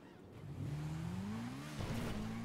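A motorcycle engine in the GTA RP video game, a steady low droning motor that climbs in pitch as it revs, with a slight dip and then a renewed rise near the end, fairly loud and with no talking over it.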